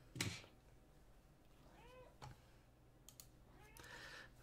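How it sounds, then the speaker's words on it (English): A pet cat gives a few soft, short meows in a quiet room, faint and close, alongside the light clicking of a keyboard. "my cat came in as I'm yelling, so I have to pet him"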